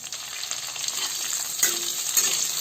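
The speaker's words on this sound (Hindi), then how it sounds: "ई प्याज के लाल होय तक हम सब भून लेबे" Chopped onions with green chillies frying in a little oil in a pan, a steady, fairly loud sizzle up close with a couple of brief stirring touches and no speech.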